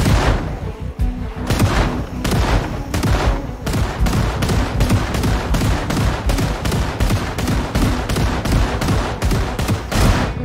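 Gunfire in the zombie survival game Project Zomboid, a dense run of loud rapid shots with booming hits, sustained without pause and with no talk.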